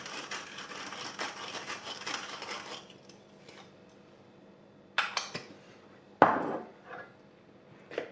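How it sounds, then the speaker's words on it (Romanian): Pasta and tuna salad with onion, olives, salt and pepper tossed in a bowl, a dense patter of soft scraping and clinking for a few seconds, then a few sharper knocks and one loud clack against the bowl. "Le amestecăm bine."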